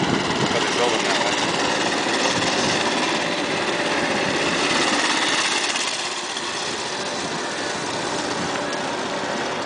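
A go-kart's small engine runs continuously with a high, buzzing drone that rises and dips slightly, while people talk over it.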